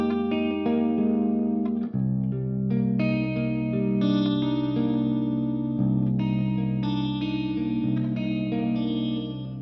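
An electric guitar plays an ambient clean tone through the Mercuriall Ampbox, with chorus, echo and reverb effects. It is sustained and shimmering, with ringing chords layered over a low tone that holds, heard alone without talk.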